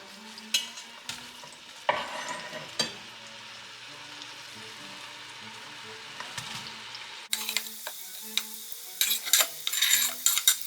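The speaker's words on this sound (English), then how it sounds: "I throw the onions in with the olive oil." Onions hit olive oil in a pan for a creamy white bean rosemary soup, with scattered clinks and stirring at first, then a brighter crackling sizzle as they fry, close and without talking.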